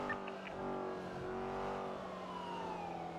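Car traffic in a video game, with a steady engine drone and a passing vehicle whose tone sweeps downward, a continuous moderate roar with no talk.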